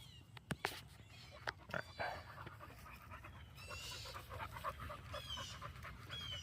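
Several dogs, one named Peachy, pant and whimper close by while tangled up outdoors, with rustling, a few sharp knocks and occasional faint animal whines layered through the breathing.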